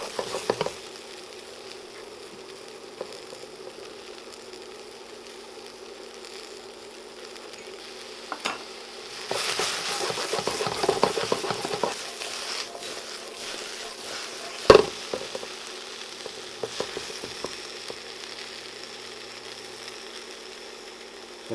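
Zucchini and chicken stir-frying in a pan, a steady low sizzle running throughout, swelling louder midway as the pieces are tossed and stirred, with a few sharp utensil knocks against the pan.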